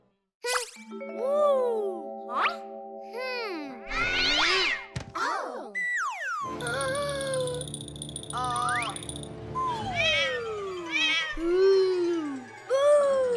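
Cartoonish meows and sliding tonal calls mixed with chimes and sound effects, with a voice in the middle; playful and animated throughout.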